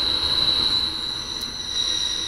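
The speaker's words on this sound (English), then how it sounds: "This train is loud." Train running on the Isle of Wight line in Train Simulator 2018, a loud steady rumble of wheels on rails with a high squealing tone held throughout, no talking.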